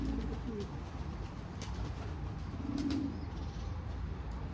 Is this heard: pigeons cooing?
yes